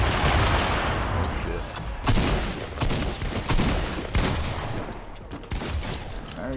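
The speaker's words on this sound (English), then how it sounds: "Ooh, shots to my left, south." Gunfire in an online shooter game: a dense, loud fusillade of shots and bursts that continues through the whole stretch, with a few sharper cracks standing out.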